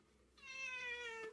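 A pet cat gives one clear, drawn-out meow, loud and close, after a brief quiet lead-in with no talking.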